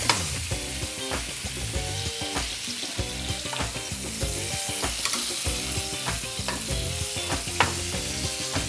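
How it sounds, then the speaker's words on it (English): Butter melting in a hot pan for monkfish, a steady crackling sizzle with frequent small pops and occasional utensil clicks, close and continuous with no talk. "and we let the butter melt."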